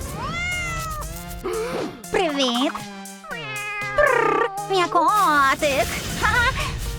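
Several cat meows with rising, wavering pitch, mixed with a high, playful voice speaking in between; fairly loud and close.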